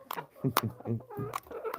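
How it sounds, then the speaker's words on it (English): Chickens cluck and squawk close by, a few short calls mixed with soft background talking. "all the chickens come back out again just to say hello"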